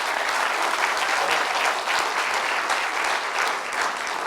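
An audience bursts into sustained, dense applause, many hands clapping steadily at fairly loud level from start to finish, with faint voices mixed underneath.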